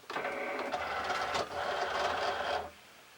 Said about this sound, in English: Okay, now I'll feed the mat into the machine.